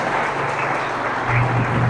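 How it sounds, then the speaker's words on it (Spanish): A church congregation claps together during a service, a dense, fairly loud wash of applause lasting a couple of seconds. "Dale un aplauso al Señor en esta hora."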